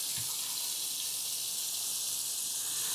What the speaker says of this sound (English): Come up here and turn the water on.